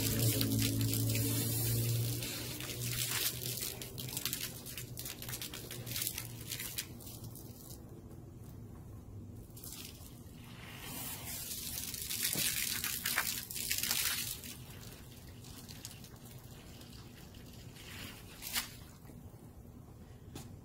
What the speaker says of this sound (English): I need to fill up and rinse this reservoir out.